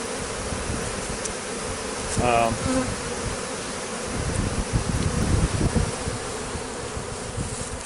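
Bees from a large removed beehive swarm and buzz continuously at close range, a dense steady drone that swells louder for a few seconds mid-stretch, with rustling handling noise underneath.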